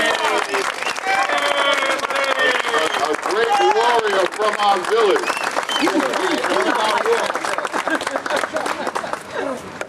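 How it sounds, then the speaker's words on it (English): An audience applauds Irv Booker at a New Jersey paddleball gathering, steady clapping under a voice speaking over it throughout. "let's give him a round of applause for Irv Booker"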